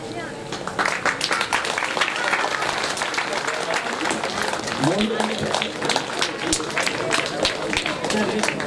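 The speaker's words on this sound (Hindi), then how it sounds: "ताली बजते रहे।" Audience clapping at a Bhagwat Katha religious discourse, sustained and dense throughout, with a voice speaking over part of it.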